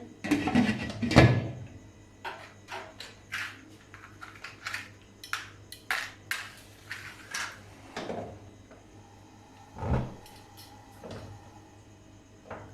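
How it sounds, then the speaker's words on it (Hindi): While beef biryani is being prepared, a cooking pot is covered with its lid, heard as a sharp metallic clunk among scattered light kitchen clicks and knocks, with a second dull thud later on. "ढक्कन ढक देंगे।"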